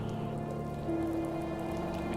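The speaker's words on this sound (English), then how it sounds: "It's raining now." Rain patters steadily across surfaces in the video game The First Tree, a soft, even hiss with a faint sustained musical tone underneath.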